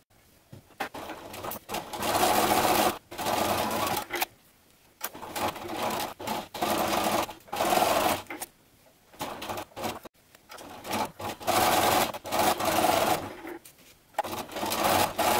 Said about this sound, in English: we can sew along this to make the 4 corners of the box